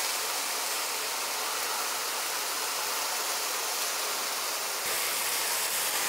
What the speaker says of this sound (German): Dann nochmal ganz kurz anbraten lassen.